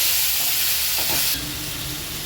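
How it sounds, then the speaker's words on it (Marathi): Chopped onion and tomato sautéing in a pan give a steady close sizzle, with a few soft scraping stirs partway through and the hiss easing slightly near the end. "चांगलं एकजीव होईपर्यंत परतून घ्यायचं हे सगळं कांदा आणि टोमॅटो"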